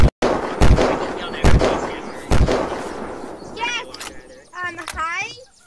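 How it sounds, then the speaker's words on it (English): Three sharp, loud gunshots ring out at even intervals in the Unturned video game, followed by voices chattering and squeaking. "Why are you shooting at the bike?"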